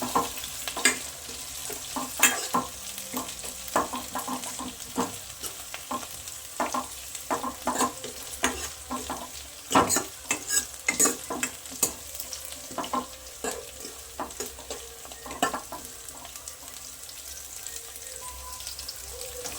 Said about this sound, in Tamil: வெங்காயம் நல்லா இப்போ வதங்கிடுச்சு.